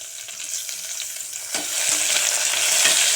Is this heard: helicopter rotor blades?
no